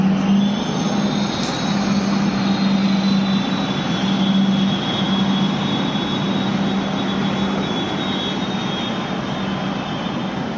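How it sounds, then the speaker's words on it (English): Private jets near a hotel beside an airport runway produce a steady, loud jet-engine roar that holds at the same level throughout, with a constant whine layered over it and no talk. "These ones here are private jets."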